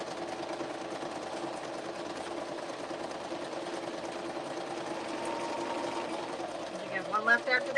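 A sewing machine stitches through junk journal paper pages with a steady, fast mechanical whir and rapid needle chatter throughout, and a voice briefly joins near the end.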